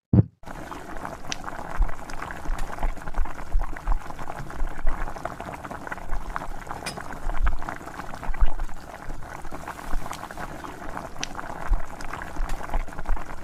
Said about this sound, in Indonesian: kita biarkan hingga mendidih ya. Kalau sudah mendidih seperti ini, baru tambahkan kecap manis